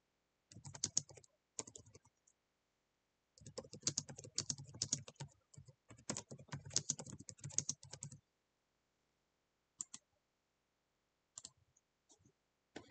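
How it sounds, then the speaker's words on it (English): Someone types on a computer keyboard in quick bursts of clicking keystrokes separated by pauses, close and clear, with a few isolated key presses near the end. "I hear a lot of clicking."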